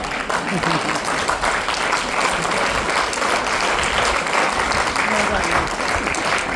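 Steady, dense applause from a seminar audience fills the whole stretch at an even, loud level, with no pause.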